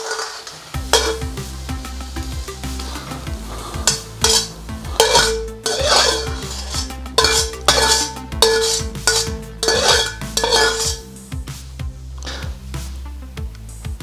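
Broccoli with salt and pepper being stirred in a pan: a utensil scrapes and clanks against the metal repeatedly in an uneven rhythm over a continuous loud sizzle, close up.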